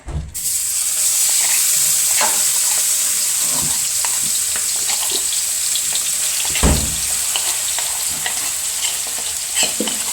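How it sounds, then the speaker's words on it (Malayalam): Clam meat deep-frying in plenty of hot oil, a loud, steady, close sizzle with dense bubbling and crackle that runs throughout, broken by occasional louder pops and stirring clatters. "എല്ലാ എണ്ണക്കകത്ത് കിടന്ന് മുരിയട്ടെ."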